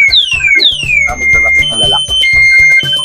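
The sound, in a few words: vehicle anti-theft alarm triggered by pushing it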